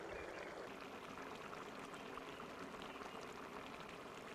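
Beer and soy and oyster sauces pour into a pot of chicken and pork intestines, giving a steady faint splashing stream and bubbling up close, with no talking.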